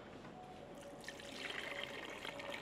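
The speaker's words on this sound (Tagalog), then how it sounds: "Asan na yung pot separator natin? Buhos natin yan, Diane." Duck broth is poured into a fat separator, a soft trickling stream of liquid that grows slightly fuller toward the end, faint and close.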